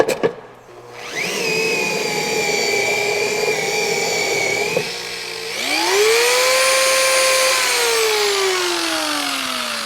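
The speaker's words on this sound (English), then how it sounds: "I use the System 4000 pad washer from Lake Country." A Lake Country System 4000 pad washer cleaning a rotary polishing pad whines loudly with a steady motor drone and spinning whir, then pitches up as the speed changes and slowly winds down, alone without talk.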